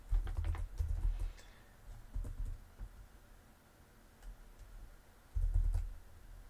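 Typing on a computer keyboard while entering an Excel formula, with bursts of quick close clicking keystrokes separated by quieter pauses and a final flurry near the end, with no one speaking.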